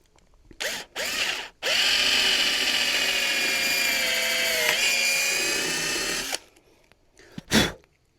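Power drill driving a nut onto a table leg fixed to a Michelin 24H Series tyre coffee table: two short whirring bursts, then a sustained loud whine for several seconds, and a brief final burst.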